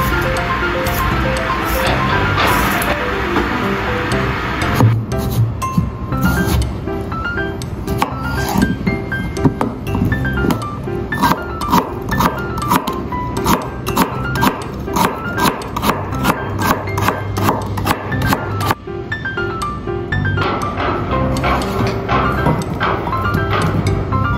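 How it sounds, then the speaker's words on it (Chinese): A knife peels and slices a daikon radish on a board, giving a long run of quick, crisp taps and scraping strokes at close range, steady and rhythmic. "白萝卜去皮切片"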